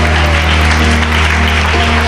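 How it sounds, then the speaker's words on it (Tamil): Loud, continuous clapping from a congregation at a church service, a dense wash of many hands that holds steady throughout over a low sustained tonal background. "நல்ல கைத்தட்டி ஆண்டவரை மகிமைப்படுத்து."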